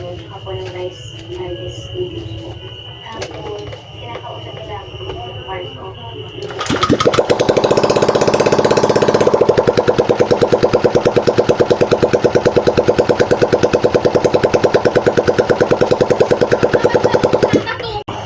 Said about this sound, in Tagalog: I-start na po natin yung motor natin para malaman natin kung may usok o wala